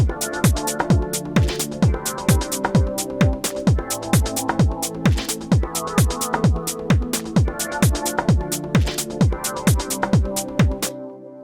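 A synth pad in Harmless in FL Studio, given a lo-fi waveform, plays a thick sustained chord under a fast repeating pluck-like pulse with falling pitch sweeps, looping steadily before cutting off.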